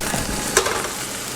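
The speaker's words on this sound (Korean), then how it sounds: "기름기가 많지 않은 고기다 보니까 그냥 기름을 둘러서 약간 튀기듯이 볶듯이 이렇게 하고 있고요" Lean beef stir-fried in a little oil in a pan, giving a steady low sizzle with one brief sharper crackle of frying, no voices.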